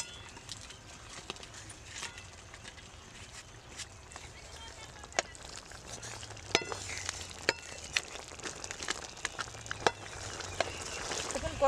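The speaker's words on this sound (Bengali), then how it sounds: "এবার ভেজে রাখা কাঁকড়াগুলো দিয়ে দিচ্ছি" Fried sea crabs tipped into a spicy gravy for Bengali crab jhal. A soft, constant sizzle in the pan is broken by scattered clinks and stirring knocks that grow busier toward the end.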